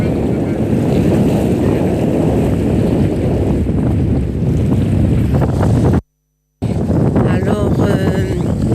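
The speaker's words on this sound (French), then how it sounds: "il y a du vent" Strong wind blows across an open salt pond by the sea, a loud continuous roaring rumble of buffeting against the microphone, broken by a brief dropout, with a faint voice speaking beneath near the end.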